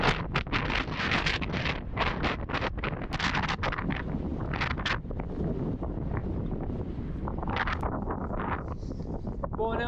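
Strong storm wind buffets a microphone during a loaded touring bike ride, roaring in heavy gusty bursts throughout, with a voice speaking beneath the wind noise.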